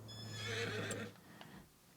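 A horse whinnies in the video game Farming Simulator 25, a single loud, shrill neigh near the listener that fades out over about a second, followed by quieter faint stirring.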